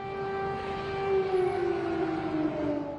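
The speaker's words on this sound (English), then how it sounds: "Air sirens have become part of daily life in Kiev." An air raid siren wails over Kyiv as a steady, piercing drawn-out tone with a slight pitch drift, moderately loud and heard alone.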